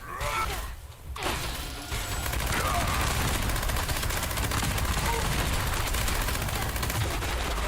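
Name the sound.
cannon fire hitting the player in Fallout 76 video game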